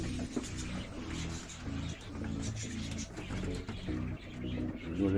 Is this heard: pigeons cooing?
yes